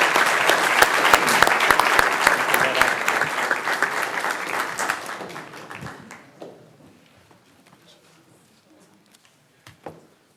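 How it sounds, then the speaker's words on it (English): A city council meeting audience gives a round of applause, with steady clapping that fades out over several seconds into near silence, followed by a few faint scattered claps. "Give them a round of applause."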